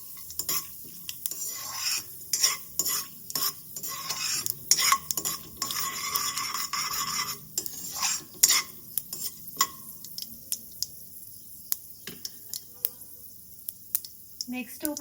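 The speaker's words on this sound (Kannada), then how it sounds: "ಇದನ್ನ ಲೋ ಫ್ಲೇಮಲ್ಲಿ ಇಟ್ಕೊಂಡೇನೆ ನೀಟಾಗಿ ಗೋಲ್ಡನ್ ಕಲರ್ ಬರೋವರೆಗೂ ಸ್ವಲ್ಪ ಫ್ರೈ ಮಾಡ್ಕೊಳ್ಳಿ" Food frying over a low flame in a pan while a spoon stirs and scrapes in quick, irregular strokes, with a soft sizzle underneath and a person talking over it.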